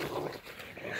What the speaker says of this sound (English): Rocky's asserting his authority over old Ripper, even though he is twice as big of a dog